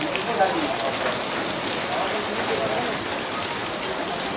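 Steady rain falls on a road near a fish market, a dense, even hiss of drops that holds at one loud level throughout with no pause.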